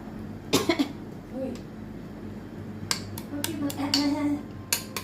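A cough while cooking rice with garlic and black pepper, a short harsh burst near the mic, followed by later coughs and clinks of pots and utensils, with a voice speaking.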